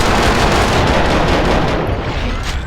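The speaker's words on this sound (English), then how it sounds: "Someone must have heard the gunfire." Dense, continuous gunfire fills a firefight in the video game Max Payne 2, a loud unbroken barrage of shots and blasts that fades slightly toward the end.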